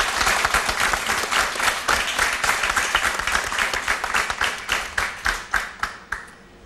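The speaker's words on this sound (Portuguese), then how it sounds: "Mas palmas para ela." Dense audience applause, loud and sustained, thinning out near the end into a handful of distinct, separate claps.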